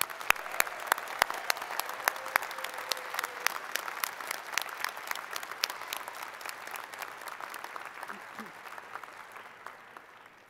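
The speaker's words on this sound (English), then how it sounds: "A round of applause for the newest recipients of doctoral degrees." A university graduate commencement audience applauds new doctoral graduates in a large hall, with scattered sharp individual claps over a steady crowd wash that slowly fades toward the end.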